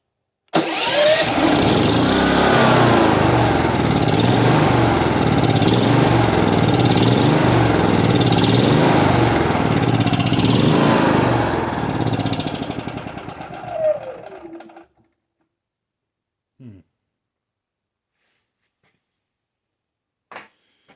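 A refurbished Westinghouse iGen 4500df portable generator engine runs loud and steady at close range for about fourteen seconds, then winds down and stops, followed by a few faint knocks.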